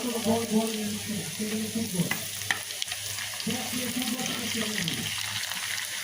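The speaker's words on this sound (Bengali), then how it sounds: "এই যে এখানে একটা প্যানে পেঁয়াজ দিয়ে দিয়েছি ভেজে নিয়েছি সরিষার তেল দিয়ে" Onions fry in mustard oil in a pan with a steady, close sizzle, broken by spoon scrapes and stirring clatter around the middle.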